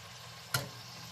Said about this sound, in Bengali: আমি এইভাবে সবগুলো ভেজে নেব